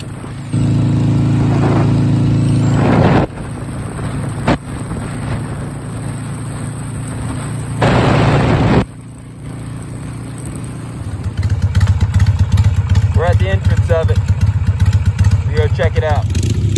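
Harley Sportster motorcycle ridden off-road through woods, its engine loud and close, shifting in tone and revving harder toward the end, with brief breaks in the sound.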